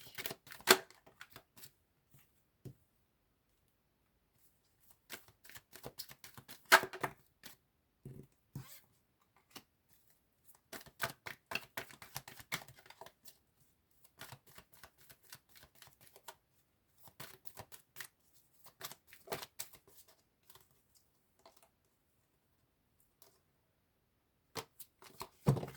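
Tarot cards are shuffled and drawn, bursts of quick riffling and flicking in clusters separated by silences, close and soft, no talk heard.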